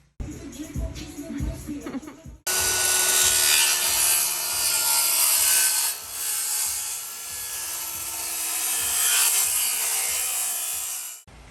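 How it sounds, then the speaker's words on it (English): A plywood piece for a van-build fridge bench is sanded smooth along its angled sides: a short stretch of scraping rubs, then a loud, continuous power-sander whir with rhythmic back-and-forth strokes. "I'm going to sand all the sides so that they're smooth"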